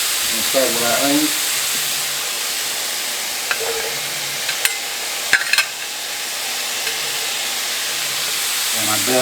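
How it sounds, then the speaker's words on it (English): Onions fry with chopped steak in a hot pan for a cheesesteak, a loud continuous sizzle broken by a few utensil clinks and scrapes, with someone speaking briefly at the start and end. "Add our ingredients. We'll start with our onions."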